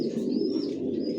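Johnson long-line original racing pigeons coo steadily in a loft, a close, continuous low murmur of overlapping calls with no pauses.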